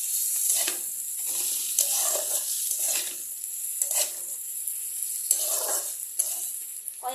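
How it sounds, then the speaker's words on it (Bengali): Previously fried potatoes are stirred in a hot pan for a rice, potato and cauliflower curry. Repeated scraping strokes ride over a constant bright sizzle, close and fairly loud. "এই ভেজে রাখা আলুগুলো দিয়ে আমি এটাকে একটুখানি নাড়িয়ে নেব"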